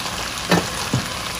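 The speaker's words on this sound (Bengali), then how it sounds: "সামান্য লবণ দিয়ে সবজিটাকে ভালো করে ভেজে নিব।" Vegetables fry with a little salt in a pan, making a soft steady sizzle broken by two brief scraping stirs.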